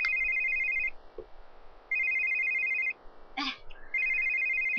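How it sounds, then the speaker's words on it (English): A phone in The Sims 3 video game rings in three clear repeated electronic trills separated by short pauses, with a faint bit of other game sound between rings. "Your phone is ringing."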